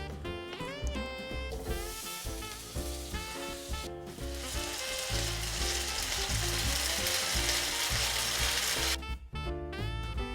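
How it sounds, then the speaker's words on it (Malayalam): Food frying in a hot pan with butter makes a steady hiss and crackle that swells after a moment, under prominent background music. "നമുക്കിത് പാൻ ചൂടാക്കി ബട്ടർ വെച്ചിട്ട് ഫ്രൈ ചെയ്തെടുക്കാം."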